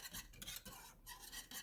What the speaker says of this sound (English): And I'm going to keep whisking.